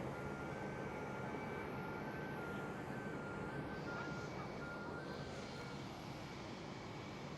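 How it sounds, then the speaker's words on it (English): Delta Airlines Airbus A330 pushing back at Schiphol, Amsterdam, a faint, steady engine hum with a thin whining tone over distant airport noise, unbroken and without voices. "first we are going to look at this Delta Airlines A330, which is pushing back"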